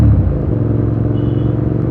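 A Hyosung GT650N motorcycle engine drones under way while riding, a loud, steady low rumble with a slight throb, heard close from the rider's position without pause.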